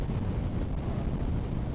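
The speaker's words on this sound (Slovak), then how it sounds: "Bohužiaľ naozaj dosť prudko fúka" Strong wind buffeting the microphone while riding a 2025 SYM ADX 300 scooter at speed, a constant heavy low roar with steady rumble and no breaks, loud and close, with no voices.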